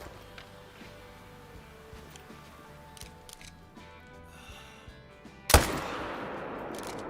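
Single loud rifle shot at a mule deer while hunting in the game theHunter: Call of the Wild, a sharp crack with a rumbling tail that follows several seconds of quiet ambient sound.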